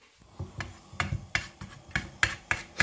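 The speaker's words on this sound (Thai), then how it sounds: "ตำให้เข้ากันค่ะ" A pestle pounds chili and turmeric into Thai curry paste in a mortar, giving repeated sharp thuds with gritty scraping in a steady rhythm of about three strikes per second, close and alone.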